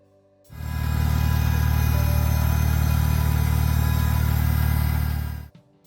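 A 1947-era Farmall Cub compact tractor engine runs steadily at close range, a loud, even low-pitched drone that starts abruptly and cuts off after about five seconds.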